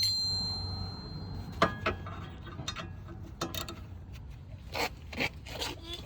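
Metal tool tightening screws on a brake caliper of a 2016 Honda Civic EX, giving several sharp clinks, ticks and scrapes at close range, scattered irregularly with short pauses between bursts.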